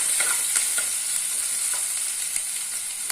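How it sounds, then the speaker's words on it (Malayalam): Crushed garlic and ginger frying in the oil of a fish curry pan, a steady bright sizzle throughout with a few soft stirring clicks, close and continuous with no voices. "നമ്മൾ ചതച്ച വെളുത്തുള്ളി ഇഞ്ചിയും കൂടെ ഇട്ട് കൊടുക്കാം"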